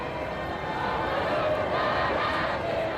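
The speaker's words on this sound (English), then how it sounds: "In the street was the largest crowd I've ever seen" A huge street crowd in Paris celebrating the liberation at de Gaulle's parade, a steady dense roar of many voices with cheering and shouting mixed in, heard at a moderate distance.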